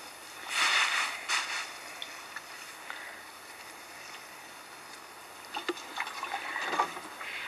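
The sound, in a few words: water being poured onto a compost heap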